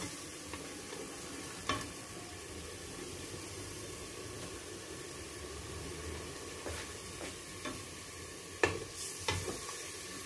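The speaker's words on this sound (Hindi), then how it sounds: "थोड़ा सा पानी डालेंगे 50 ml के तकरीबन, ताकि जो है इसमें सब्ज़ मिर्चें भी ग्राइंड की हुई हैं, जले नहीं" Masala with ground green chilli paste sizzles steadily in a pan after a splash of water, a continuous close frying hiss broken by a few sharp spoon scrapes and clinks, with no talking.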